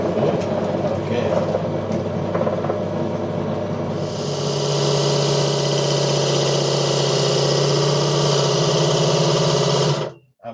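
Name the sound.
wood lathe spinning a chuck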